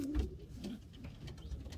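A racing pigeon coos softly in a loft, a few low, rolling murmurs close by, with faint handling noise around it and no talk.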